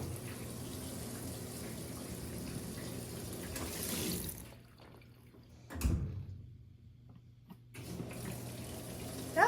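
A Speed Queen TC5 top-load washer starts and fills with water, a steady rushing inflow that drops away for a few seconds, surges again, then resumes its continuous splash, heard alone and close.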